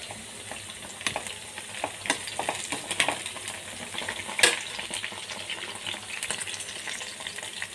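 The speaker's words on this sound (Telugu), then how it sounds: "पच्चिमिर्चि कोन्नि पल्लीलु वेल्लुल्लि रेब्बलु कागिन नूनेलो इला पच्चिमिर्चि वेयिंचुकोवालंडि" Green chillies, peanuts and garlic cloves crackle and sizzle in hot oil for gongura chutney, a steady close frying hiss dotted with sharp pops and occasional stirring clicks, no voices.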